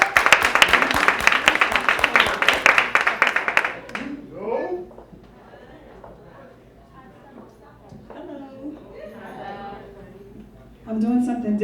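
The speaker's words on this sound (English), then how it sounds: "give a warm round of applause for my girl coming back to the stage" An audience welcomes a performer back to the stage at a spoken-word show with a burst of dense clapping and cheers lasting several seconds, then the room quiets to scattered sounds and a voice speaks.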